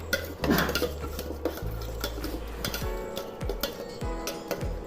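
A spoon stirs masala with soy sauce in a pan, knocking and scraping against the metal in repeated close clinks over a low hum.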